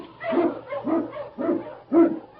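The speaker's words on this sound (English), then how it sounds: "King, the swiftest and strongest of Eskimo lead dogs, blazes the trail through storm and snow" A husky lead dog, an Eskimo sled dog, gives four evenly spaced barks close up, each a short yelping bark, with no voices.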